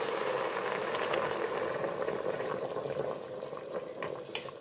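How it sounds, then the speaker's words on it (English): Water at a rolling boil in a pot, a dense continuous bubbling and gurgling close by, steady throughout with an occasional sharper pop. "That's just boiling water"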